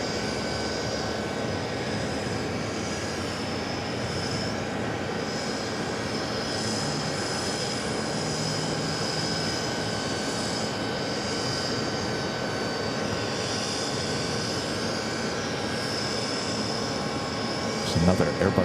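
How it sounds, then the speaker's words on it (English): Airbus A220-300 jet at New York JFK airport, a long sustained engine roar with steady whining tones, distant to mid-range, with faint voices in the background. "Another Airbus A220-300 with that newer livery"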